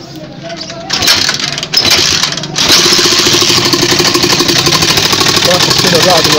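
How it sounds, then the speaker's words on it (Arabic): A motor tricycle engine with a suspected fuel or electrical fault cranks and catches, then settles into a steady, loud idle that runs continuously, with a voice talking over it. "تعالوا ندور الاول ونسمع صوت التروشكل"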